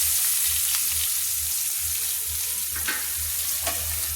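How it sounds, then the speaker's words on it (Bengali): Chopped onions frying in leftover brinjal-frying oil until golden, a soft continuous sizzle with a low bubbling hum, close and even, with a couple of faint stirring touches and no speech. "দিয়ে ভালো করে আমি কিন্তু লাল লাল করে সোনালি কালার করে ভেজে নিচ্ছি"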